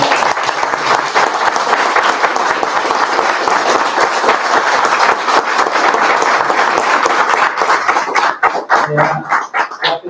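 Steady, dense applause from a lecture audience fills the hall for about ten seconds, then thins into scattered claps near the end.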